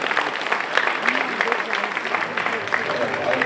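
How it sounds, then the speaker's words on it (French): Audience applause fills a gala hall at the 2013 Sand Queens results ceremony, a steady dense wash of many hands clapping, close and continuous throughout, with faint voices underneath. "et à nouveau des applaudissements publics"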